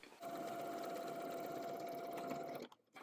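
A sewing machine stitches a French seam at a quarter-inch allowance on an apron, a close, steady mechanical hum with a faint tonal whine that runs for a couple of seconds and then stops abruptly.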